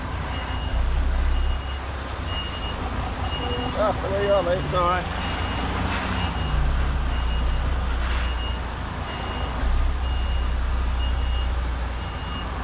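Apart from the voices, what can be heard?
truck reversing with reversing beeps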